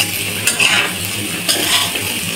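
Dal frying in a pan with whole garlic cloves, a spoon scraping and stirring in a few loud strokes over a soft, continuous sizzle.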